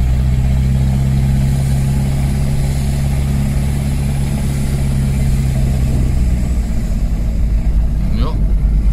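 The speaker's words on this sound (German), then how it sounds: "Jetzt geben wir ordentlich Gas." A car engine, running low on fuel, idles loudly and steadily, then is revved hard near the end as the driver accelerates, a rising whine cutting through the rumble.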